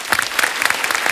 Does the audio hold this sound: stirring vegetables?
no